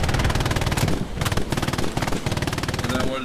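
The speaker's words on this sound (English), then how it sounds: "I wanted to try the MG for a few minutes" Rapid machine gun bursts in the World War II shooter Hell Let Loose, loud sustained automatic fire with brief pauses between strings of rounds, close and dense throughout.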